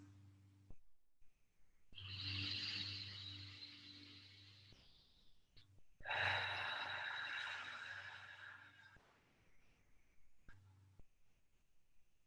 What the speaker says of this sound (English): take 3 cleansing deep breaths